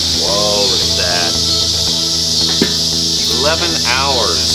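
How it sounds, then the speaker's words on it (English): Cicadas drone loudly and steadily in a high, continuous buzz, with a few bird calls rising over the dense insect noise. "Shut up, cicadas."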